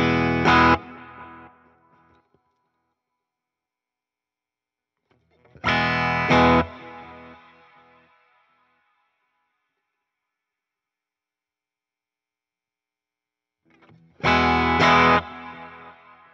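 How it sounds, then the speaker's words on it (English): An electric guitar played through a Fender Tone Master Pro modeller with Cloud Reverb sounds three chords, each struck loudly and left to ring into a long, smooth reverb tail before fading to silence. "Now let's take a look at the Cloud Reverb and the High Damp Control."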